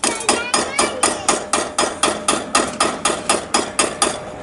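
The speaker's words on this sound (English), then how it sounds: "you can still use the hammer and screwdrivers for this bit as well" Hammer striking a screwdriver during motorcycle maintenance, a steady run of about fifteen sharp metallic blows at an even quick rhythm, close and loud, with no talking.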